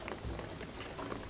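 Steady rain in the video game Shadow of the Tomb Raider, a soft continuous patter and hiss at low level with no talking.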